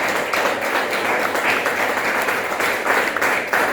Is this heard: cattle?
no